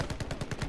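Rapid rhythmic gunfire in the online shooter Shatterline, about seven sharp reports in quick succession, loud and close with no talk.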